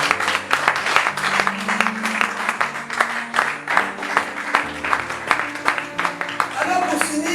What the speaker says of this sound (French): Acclamons une fois de plus le Seigneur.